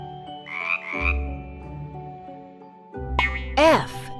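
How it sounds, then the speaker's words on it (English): A cartoon frog gives two bursts of croaking, a doubled croak early and a springy, boing-like croak near the end, over a light musical background. "F is for frog."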